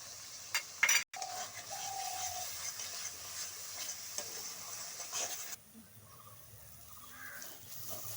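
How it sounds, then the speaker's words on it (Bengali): Spice masala frying in oil in a pan, seasoned with red chilli powder, on a rustic village stove. A soft sizzle runs under scraping stirs and a few sharp metal clinks of the spoon, and the sound quiets toward the end. "মশলাটা আমি খুব ভালো করে কষিয়ে নিয়েছি"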